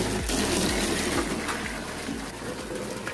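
Water gushes steadily onto a coconut plant, a loud continuous pour that runs throughout without a break, with no talking.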